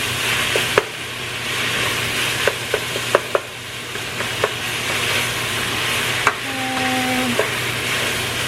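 Meat browning in a pan for a rigatoni pasta dish, giving a steady close sizzle with occasional sharp clicks and scrapes of a utensil stirring against the pan.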